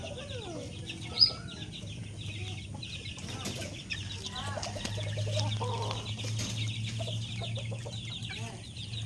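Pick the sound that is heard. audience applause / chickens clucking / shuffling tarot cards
chickens clucking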